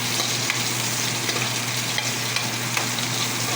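Garlic and onion sauté in a pan for chicken Bicol Express, a steady close sizzle with faint stirring scrapes throughout and no voices.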